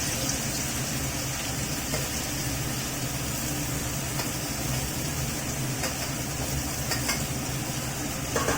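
Boiled jackfruit pieces and vegetables fried and stirred in oil in a pan, a steady close sizzle with soft scraping stirs throughout, no talking.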